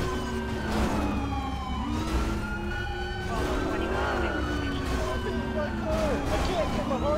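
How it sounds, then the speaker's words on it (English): Police car sirens wail in Grand Theft Auto 5, several of them overlapping with rising and falling tones and yelp patterns. They run continuously under engine noise and a talking voice. "Can you guys kill your sirens?"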